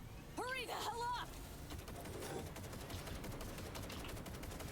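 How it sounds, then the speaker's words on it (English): Rapid gunfire from a gun in the video game Cyberpunk crackles in a continuous, fairly faint burst, following a short voice at the start. "Strong as that gun is, it doesn't seem to be able to shoot through stuff like this."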